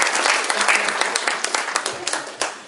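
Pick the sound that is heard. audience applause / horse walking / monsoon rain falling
audience applause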